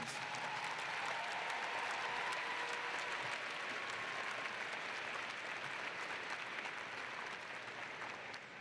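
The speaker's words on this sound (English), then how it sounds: "would you please join me once again in a round of applause for your families and your friends." Sustained applause from a large crowd at a Ball State University fall commencement ceremony, a steady dense wash of clapping that holds evenly for several seconds before easing slightly at the end.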